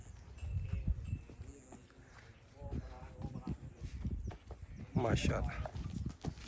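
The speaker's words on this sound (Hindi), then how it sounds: "ये अब घोड़ी को लेकर जा रहा है" A mare being led away at a wedding gathering clip-clops in uneven hoof steps close by, under and between people talking.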